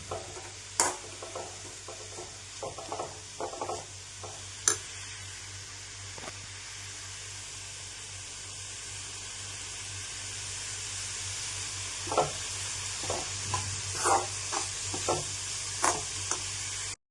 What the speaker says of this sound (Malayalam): അങ്ങനെ ഒരു 3-4 മിനിറ്റ് നമുക്കിത് ഇളക്കി കൊടുത്തുകൊണ്ടിരിക്കാം